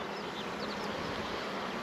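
Honeybees hum around an open hive, a steady dense buzz close by with individual bees briefly droning past, continuous and without voices.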